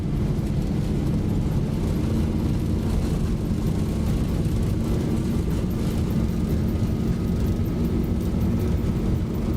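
Boeing 737 engines in the Zibo mod flight simulator spooling up to takeoff thrust, a loud, continuous roar with a steady rumble and a faint rising whine, with no talking.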